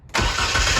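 A Mitsubishi 3000GT engine being revived catches at once, a sudden loud start jumping out of near silence into a steady, rough, close-up roar that holds without any voices.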